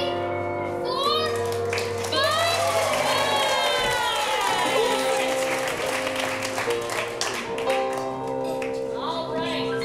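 An audience at an improv comedy show bursts into clapping and cheering to score a scene, loud crowd applause with shouts and children's voices rising over a couple of seconds and then trailing into scattered chatter.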